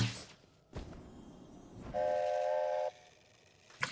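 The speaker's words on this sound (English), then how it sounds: "Can someone explain to me what the honking's about?" Horn honks in a Heroes of the Storm match: a short blast, then a longer sustained tonal honk lasting about a second, with a faint click near the end, no talking.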